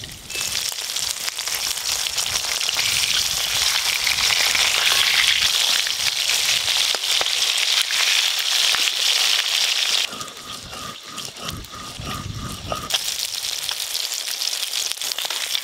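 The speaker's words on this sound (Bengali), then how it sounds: "আজকে আমার মাছ ভাজতে একটু বেশি সময় লাগবে" Pieces of katla fish, a large carp, sizzle in hot oil for a Bengali kalia, giving a steady, loud crackling hiss that thins briefly partway through before returning at full strength, with no talk.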